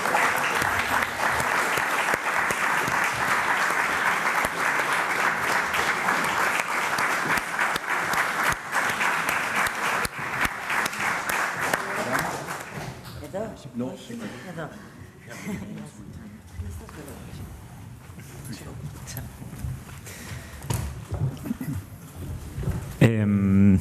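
A press conference audience for the 2019 film Adults in the Room applauds the film's team as they join, a dense sustained clapping for about twelve seconds that then thins and fades as a speaker talks over the room.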